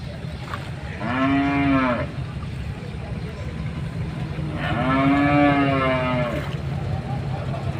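Cattle at a village cattle market moo twice in long, drawn-out calls a few seconds apart, loud against steady outdoor background noise with a faint engine hum.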